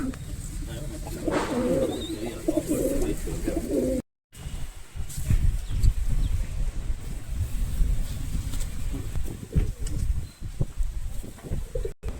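Kamalapur Kesari pigeons at a loft in Dharwad coo in low, throaty rolling calls, loudest in the first few seconds, then softer amid background rustle and faint wind.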